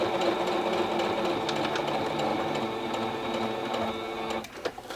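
An electric sewing machine stitches through a satchel handbag, keeping up a steady, close, continuous mechanical whir with a fast needle rhythm. It slows and stops near the end.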